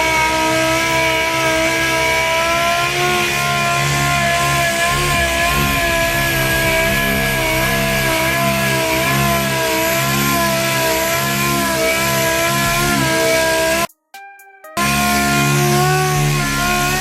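DA9 orbital sander wet sanding car paint with 1500 grit, a steady high whirring hum with a strong whine, running continuously, briefly stopping and restarting near the end, close and loud.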